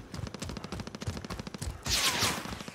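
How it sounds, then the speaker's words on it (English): Rapid automatic gunfire in a Dogtag game mode match, a fast steady burst of shots followed by a louder, hissier blast near the end. "Oh, I'm getting shot at."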